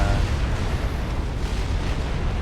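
A tier 3 artillery shell explodes in Supreme Commander: a deep, rumbling blast fills the whole moment, loud and sustained with a rough, noisy low end and no talk over it.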